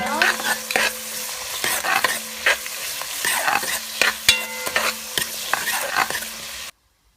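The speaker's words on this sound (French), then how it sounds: "Là, je rajoute de la cannelle parce que je peux les enlever après. Donc, je mélange." Onions browning with cinnamon in a frying pan for pilau are stirred with a utensil, giving a run of rhythmic close scraping strokes over a constant sizzle, with no voices.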